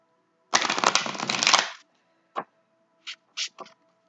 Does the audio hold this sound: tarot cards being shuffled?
yes